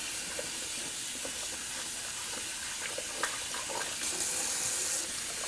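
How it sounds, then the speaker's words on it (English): Water runs steadily from a tap as a shaving brush is rinsed under it, making an even close hiss with small splashes and a slightly louder gush near the end. "And I'll give this Dscosmetics brush just a quick rinse."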